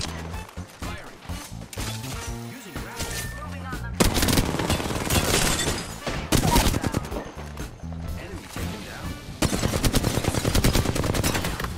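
Dense automatic gunfire and rapid bursts of shots in an Apex Legends battle, loud and nearly continuous across the whole stretch, with crashing impacts and players talking over the action.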